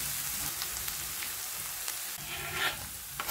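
Chopped onions fry in a pan until golden, giving a soft, steady sizzle with faint crackles throughout, close and quiet, with no talking.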